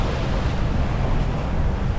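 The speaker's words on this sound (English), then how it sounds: "Just bashing through these waves a little bit." Waves slapping and rushing against a sailboat bashing through the choppy Chenal du Four channel, a continuous loud wash of water mixed with wind buffeting the microphone.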